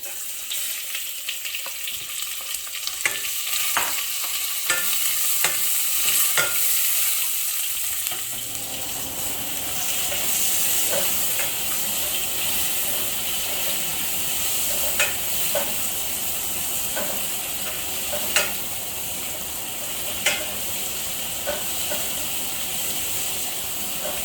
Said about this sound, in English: And then we are going to add the onions, the big onions that we have cut.